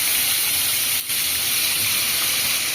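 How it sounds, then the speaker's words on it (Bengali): Shrimp dropped into hot oil in a pan sizzle with a loud, steady, close hiss that briefly dips for a moment before carrying on unbroken. "এবার ওই তেলের মধ্যে মাছগুলোকে দিয়ে দেবো।"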